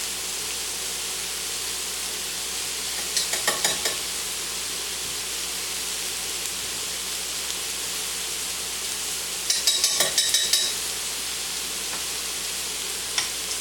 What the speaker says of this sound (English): I'm going to stir in the basil